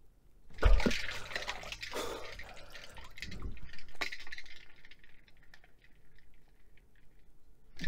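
A head plunged into a large bowl of ice water, giving a sudden splash followed by sloshing, trickling and dripping that taper off into faint drips.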